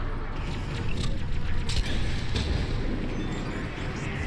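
Explosions and booming gunfire in a Mass Effect 3 combat encounter, a dense continuous roar of blasts with sharper bursts around the middle, loud and sustained throughout.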